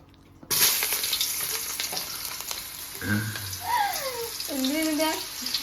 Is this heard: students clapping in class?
no